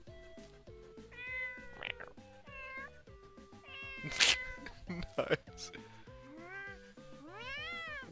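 A video game character in Tokyo Mirage Sessions #FE imitates a cat with several sharp, rising meows over game music, while a person talks over the scene.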